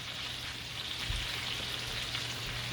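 Onions, scallions and tomatoes sizzle in a pan where chicken has been browning for coq au vin, a soft, steady frying hiss with a faint thump near the middle.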